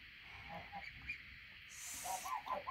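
A male goose on a farm gives a few soft honking calls at a moderate distance, short nasal notes spaced apart over faint outdoor background noise.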